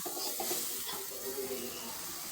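Spices such as turmeric, chili, salt, garam masala and bay leaf frying and being stirred in a pan, a steady close sizzle with scraping stirs and no speech.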